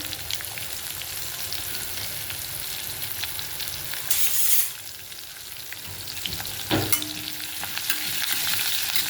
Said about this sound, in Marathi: मग असं हे आपल्याला परतून घ्यायचं आहे